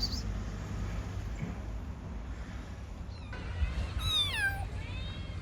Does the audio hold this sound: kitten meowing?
yes